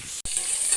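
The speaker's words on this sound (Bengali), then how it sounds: "পটল ভাজা হচ্ছে" Pointed gourd (potol) fries in a pan as a steady, close hiss of hot oil, broken by a very short gap partway through.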